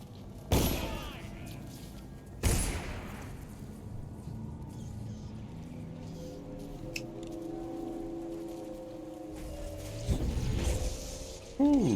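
Guards in Dishonored fire two loud, sharp shots a couple of seconds apart, followed by quieter game ambience with tonal sounds and another burst toward the end.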